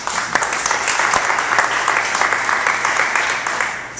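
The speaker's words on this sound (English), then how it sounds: "because I got applause." A Cadillac presentation audience in Atlanta claps steadily for a speaker, a dense, even applause that holds for several seconds.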